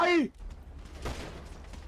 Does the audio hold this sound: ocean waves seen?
no